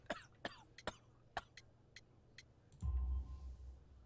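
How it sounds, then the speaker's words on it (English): A man with a severe cough from coal dust in his lungs coughs repeatedly in short, sharp bursts, roughly a dozen close harsh hacks in quick succession, followed by a low rumbling noise. "You have a severe cough."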